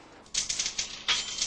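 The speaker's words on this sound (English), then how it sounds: "Miss McCackity is hard at work typing." Typewriter keys struck in quick irregular bursts in an office, sharp mechanical clacks with a short pause mid-way, close and moderately loud with no talking.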